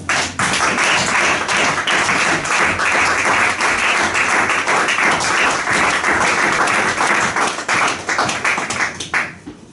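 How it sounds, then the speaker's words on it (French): A church congregation applauding to acclaim the Lord: dense, sustained clapping from many hands fills the room for nearly ten seconds, then thins out at the very end. "est-ce qu'on peut acclamer le Seigneur?"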